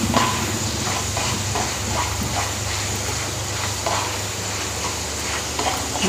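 Okra and potato sabzi coated in gram flour roasts in a generous amount of oil, giving a steady, even sizzle and hiss throughout.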